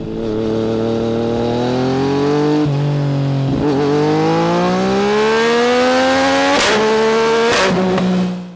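A 2023 BMW M1000R motorcycle engine revs up repeatedly, each pull rising in pitch with short gear-change dips between, loud and close with no talking.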